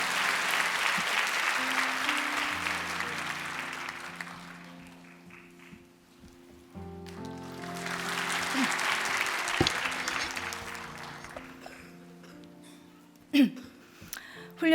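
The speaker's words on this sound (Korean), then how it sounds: "나오실 때 뜨거운 박수로 그렇게 축복해 주시면 감사하겠습니다" Hands clapping in a church congregation to welcome a deaconess coming forward to give testimony, a loud sustained swell that fades around six seconds, then a second wave of applause rises again and tapers off, with a few soft knocks near the end.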